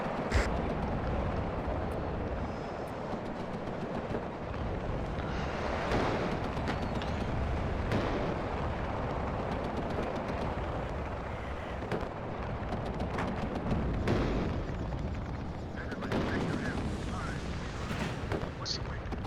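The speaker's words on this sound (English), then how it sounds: "Smirch fire coming down on us." Smerch rocket artillery fire in the video game WARNO rumbles continuously, with repeated heavy booms and crackling blasts rolling through a dense, loud battlefield din across the whole stretch.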